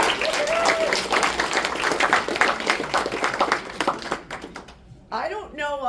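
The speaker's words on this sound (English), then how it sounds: "So let's give a round of applause." An audience at a diagnostic medical sonography graduates' pinning ceremony applauds in a steady, dense wash of clapping that fades after about four seconds, followed by a brief rise of voices and cheering at the end.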